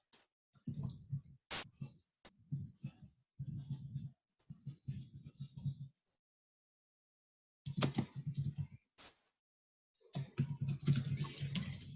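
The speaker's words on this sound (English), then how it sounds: "Typing into nothing." Typing on a computer keyboard during a family video call, bursts of quick soft key clicks separated by pauses, close and quiet.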